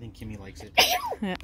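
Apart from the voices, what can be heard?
sneeze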